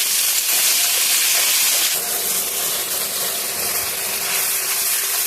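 Spice paste hitting hot oil after frying a dried red chili tempering, a loud, dense, continuous sizzle and hiss close up, with no voices.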